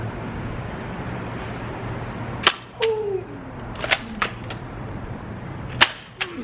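Sharp pops of shots fired during a shooting challenge between brothers, several crisp cracks spaced irregularly over a steady background hum, with occasional faint voices between them.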